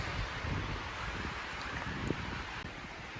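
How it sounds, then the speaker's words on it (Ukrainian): Wind gusting against the microphone on a mountain hike up Shpytsi in the Ukrainian Carpathians, a steady rough roar with a few brief buffets, loud and close, no voices. "Ось зараз піднімати ще складніше, тому що вітер."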